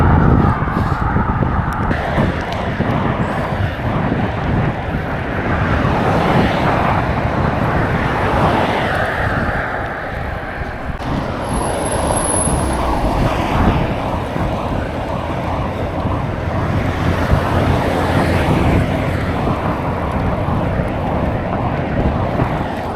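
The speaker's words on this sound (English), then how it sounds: "Traffic heading back into the city now." Road traffic heading into the city on a late-afternoon cycle route in Limerick, a dense continuous roar of passing vehicles with wind buffeting the microphone, loud and close throughout with no talking.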